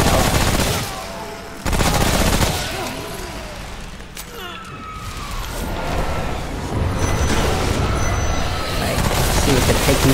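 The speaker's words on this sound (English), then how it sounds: "Now I switched to this submachine gun." Submachine gun fire in the video game Remnant: From the Ashes, dense and loud with rapid bursts and booms filling the scene while someone talks over the action.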